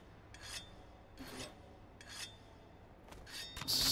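In Monster Hunter World, a weapon is sharpened with three or four rhythmic rasping strokes. Each rough scrape is separate and close, with a brighter burst at the end, over a quiet backdrop.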